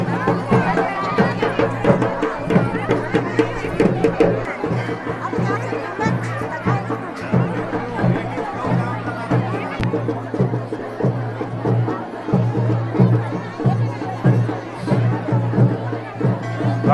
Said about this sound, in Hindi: और चारों तरफ काफ़ी भीड़ है।